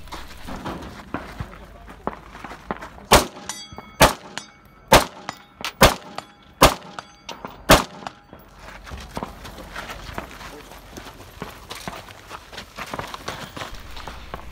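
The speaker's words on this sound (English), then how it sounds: "I engage a rifle plate rack that has 6 targets" Six sharp, loud rifle shots ring out in quick succession as each round strikes one of six steel plate targets on a rack about 50 yards away during a 3-gun match, with a rough background of wind and movement before and after.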